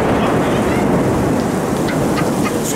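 Heavy, steady rain pours down in a monsoon storm, a dense continuous wash with low thunder-like rumble beneath and a few faint higher sounds, loud and close throughout.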